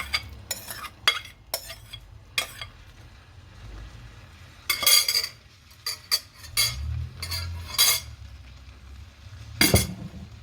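Peas, carrots and potatoes tipped into a pan of pie filling and stirred, with a series of sharp clinks and scrapes of a utensil against the pot over a low steady background.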